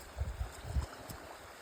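A fast-flowing creek after a day of drizzle gurgles and rushes in low, choppy pulses, faint and somewhat distant, with no voices.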